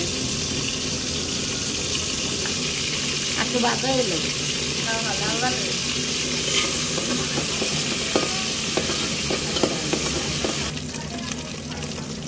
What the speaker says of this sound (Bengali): চিংড়ি মাছগুলোকে নাড়াচাড়া করা হচ্ছে।